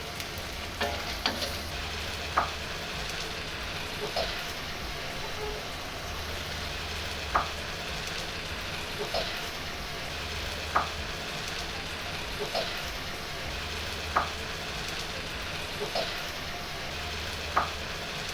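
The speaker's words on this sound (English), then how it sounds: "Let the eggs cook a little bit and then start scrambling." Eggs fry and get scrambled in a hot wok for pad thai, with a constant close sizzle broken every second or two by light spatula scrapes and taps against the pan.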